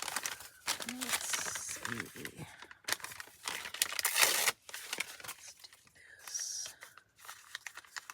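Scraps of packing paper are crumpled and torn in crinkly bursts near the microphone, with someone talking casually between and over the rustling.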